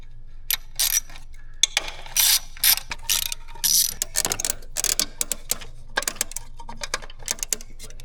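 A ratchet clicks in quick repeated bursts, loud and close, as it works loose 8mm bolts on a fuel filter housing, with short pauses between strokes.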